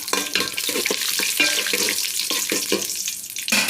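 Cashew nuts fry in hot ghee for a Malabar-style dum biryani, a loud, close sizzle with bursts of crackling as the pan is stirred, and no voices.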